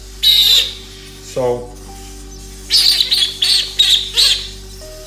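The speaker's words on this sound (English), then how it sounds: "Maybe hawk-headed parrot. Like I said, they sound like road runners." Hawk-headed parrots give harsh, squawky calls in a burst at the start and then a quick run of five or six, with a brief voice speaking between them.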